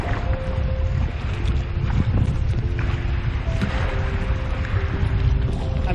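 A southwest wind blows across open water on a kayak trip off Grand Island, Michigan, as a steady, loud wind rush with low buffeting throughout.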